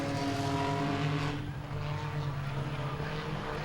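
Race cars in an Enduro race at Langley Speedway roar past in a loud, dense engine drone. The sound dips briefly midway, then swells again.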